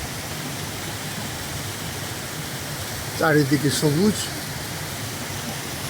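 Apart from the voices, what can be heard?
waterfall flowing down at Gangarang, Sangla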